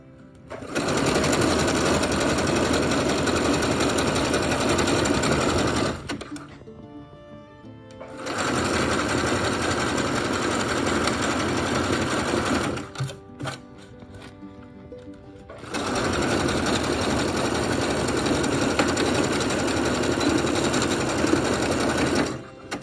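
A sewing machine runs in three long bursts while sewing a hair topper, a fast even whir up close, with short pauses between runs.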